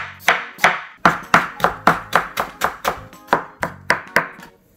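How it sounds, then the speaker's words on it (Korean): A knife cutting potato into thin strips on a board, with about fifteen crisp, sharp chops in a steady, brisk rhythm, close and fairly loud, with no talking. "감자부터 얇게 채를 썰어 주세요."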